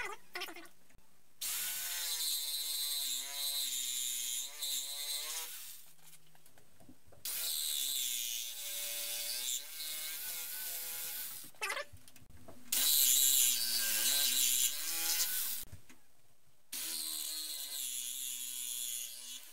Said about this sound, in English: I'm notching the corners because I made the support rails, the ramp rails, go all the way up to the soundboard braces.